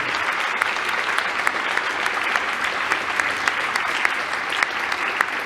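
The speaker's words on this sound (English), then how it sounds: "a big round of applause, because this conference has been a really nice moment for everyone" Closing applause from a conference audience at a science event on synchrotrons, a continuous patter of many hands with a few sharper individual claps popping out near the listener, steady and moderately loud throughout.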